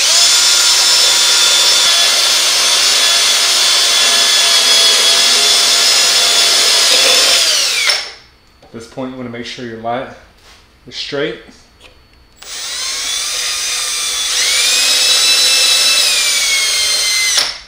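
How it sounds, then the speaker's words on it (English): Power drill boring through an explosion-proof bug-eye emergency LED exit light housing, a loud steady whine for several seconds, then a pause with someone talking, then drilling resumes at full strength. "Gonna have to drill through the housing."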